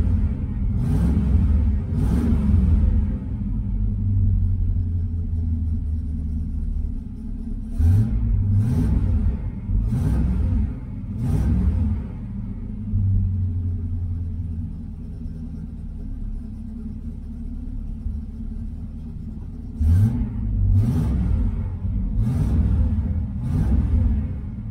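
A 1985 IROC-Z engine idles steadily on a new knock-off carburetor, a continuous low rumble broken by several sharp revs and blips, with no voices.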